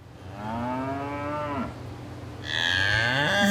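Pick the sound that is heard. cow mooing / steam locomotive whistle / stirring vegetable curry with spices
cow mooing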